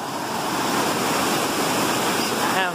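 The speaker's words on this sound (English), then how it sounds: "That's waterfall right here though." A waterfall on the Appalachian Trail in the Presidential Range roars steadily and loudly, a continuous broadband rush of falling water with some wind noise and no talking.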